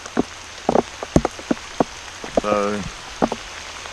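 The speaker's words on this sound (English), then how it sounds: "and now it's raining" Rain falls on a river during kayak fishing for smallmouth bass, with steady patter and scattered close drops under a brief spoken word.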